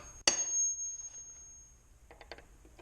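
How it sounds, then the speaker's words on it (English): A single sharp metallic tap of a center punch struck into steel rings out near and loud, leaving a long bright ringing tone that fades slowly, followed by a few faint small clicks. "I have a center punch though, so I figured I would try to use it anyway"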